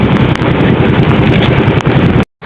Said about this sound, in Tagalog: Kapag lumalakas yung ulan, lumalakas din yung hangin, saka yung alon lumalaki